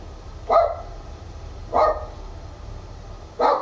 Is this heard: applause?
no